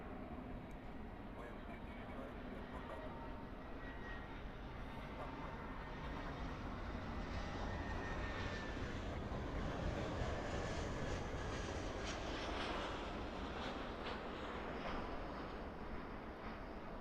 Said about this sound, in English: This 777-300 is going to be going to Manila